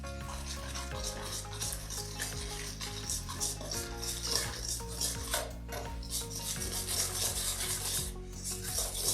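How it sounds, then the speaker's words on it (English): Cheese being stirred into an egg and sugar mixture in a bowl for tiramisu, giving a steady, close scraping and rubbing with occasional utensil clinks against the bowl, continuous throughout with no talking. "So you want to mix this until it's well combined."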